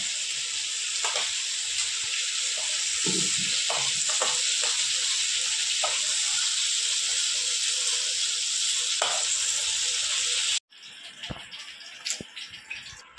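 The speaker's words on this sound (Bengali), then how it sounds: "আমার পটল ভাজা হয়ে গেছে" Pointed gourd (potol) fries in oil with a loud, steady sizzle that cuts off abruptly near the end, followed by a few light clinks and stirring sounds.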